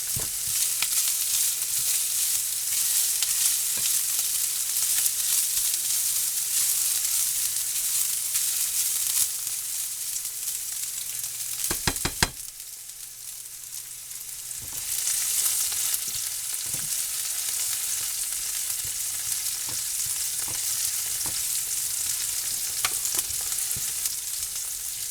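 Beef and green beans stir-frying in a pan for a quick pantry recipe, a steady loud sizzle running nearly the whole time, with a short lull near the middle and occasional scrapes of stirring.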